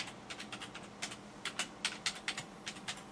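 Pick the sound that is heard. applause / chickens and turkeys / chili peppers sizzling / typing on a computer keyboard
typing on a computer keyboard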